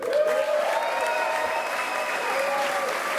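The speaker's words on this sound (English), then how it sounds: "The news Worcester waited to hear is met with a standing ovation in City Hall Friday" Sustained, dense applause from a crowd giving a standing ovation in City Hall in Worcester, loud and continuous with cheers and whistles mixed in.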